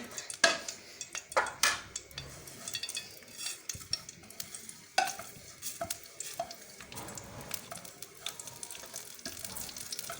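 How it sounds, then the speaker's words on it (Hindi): Cumin seeds frying in about two tablespoons of oil for radish-stuffed paratha, a light sizzle under scattered clinks and scrapes of a utensil against the pan, no talking. "अब मैं इसमें ज़ीरा डालूँगी और इसको फ्राई करूँगी"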